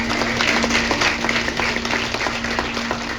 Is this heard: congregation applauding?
yes